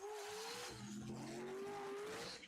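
An S10 pickup and a Camaro launch off the line at a drag strip, with the Camaro struggling for traction. Their engines rise in pitch as they rev, with tire noise and a distant crowd-like wash.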